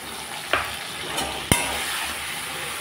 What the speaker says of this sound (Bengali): আলুগুলোকে আমি লাল লাল করে ভেজে নিলাম, এখন দিয়ে দিচ্ছি পেস্ট করা মশলা